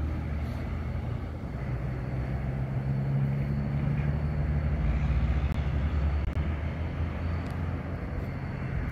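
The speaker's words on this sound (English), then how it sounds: "There goes the train." A train passes at night in Henry County, Georgia, as a steady, continuous low rumble that holds level for several seconds with no voices.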